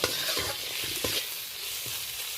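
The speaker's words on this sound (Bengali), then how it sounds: "এটা ভালো করে মিশিয়ে আরও 2 মিনিট নেড়ে নেব।" Banana flower filling cooked with spices and ginger paste being stirred in a pan, a close, continuous sizzle with scraping and stirring strokes and no voices.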